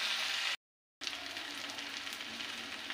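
Spice masala with turmeric being stir-fried in a pan makes a soft, constant sizzle with a faint hiss, briefly cut out by a short gap of silence before the sizzling resumes.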